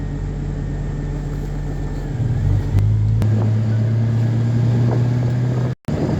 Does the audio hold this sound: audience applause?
no